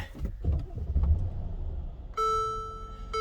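A car engine cranks and catches with a low rumble, then a steady electronic warning chime rings out over the idle. The car is getting a synthetic oil change.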